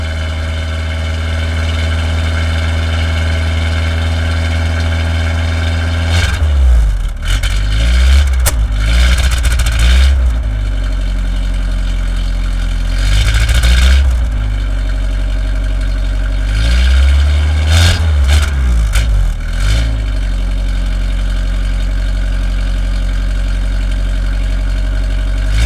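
Carbureted Ford Pinto engine cranking in several bursts while being primed, catching, then settling into a steady, loud, rough idle with a deep low rumble throughout; no talking.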